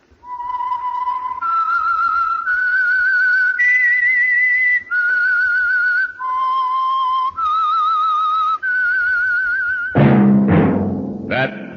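The whistled theme of The Whistler radio drama, a lone human whistler carrying a slow, eerie tune of sustained, slightly wavering notes, followed by a sudden burst of louder orchestral sound near the end.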